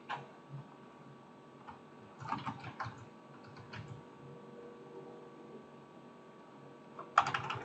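Someone types on a computer keyboard in a high school English classroom: soft, faint bursts of key clicks with pauses between them in a quiet room.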